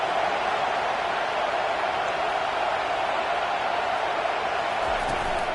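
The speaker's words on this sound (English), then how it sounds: "Decibels rising as the crowd gets behind this defense on 3rd down" College football stadium crowd roaring during a third-down defensive stand, a broad, sustained wall of cheering and noise at steady volume throughout.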